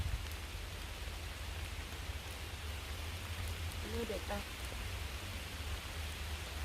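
Steady rain pours down in a Swedish forest where wild plants are being picked, a continuous hiss that runs through the whole stretch while someone talks over it.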